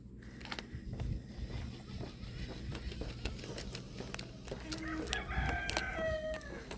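A rooster crows and chickens cluck nearby on a morning above Mykonos Town, with scattered bird calls and light outdoor background noise.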